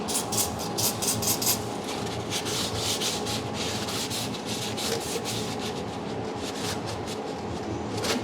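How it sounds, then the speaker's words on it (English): Someone wipes residual oil from the underside of a BMW after spraying throttle cleaner, making steady, close rubbing and scrubbing strokes with a faint background hum and no speech. "Gonna use a little bit of throttle cleaner here."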